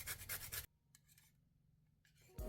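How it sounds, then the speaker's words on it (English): Lime peel grated against a grater onto measured sugar gives a close, brisk rasping burst, then a quieter pause with faint scrapes, before another loud stretch of grating at the end. "I'm grating lime peel to measured sugar."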